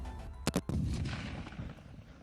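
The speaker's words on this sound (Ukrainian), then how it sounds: "Гучно, звісно, перший вистріл залажує вуха." Two sharp, loud blasts in rapid succession, followed by a heavy rolling boom that lingers and fades, from an RPV-16 shoulder-fired flamethrower rocket launcher going off nearby.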